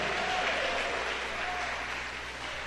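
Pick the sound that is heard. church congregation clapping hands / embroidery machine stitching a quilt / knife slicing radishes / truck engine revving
church congregation clapping hands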